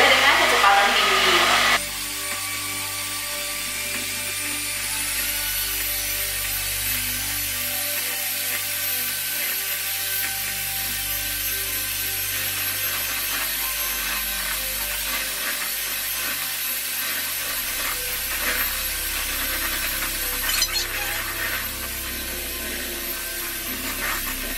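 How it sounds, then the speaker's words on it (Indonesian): An electric hand mixer whirs at high speed, beating egg whites for a dog-safe birthday cake. It keeps a steady buzzing drone close by throughout after a louder start, with no talk. "Telur ini kamu kocok hingga sangat mengembang ya. Boleh dengan kecepatan tinggi."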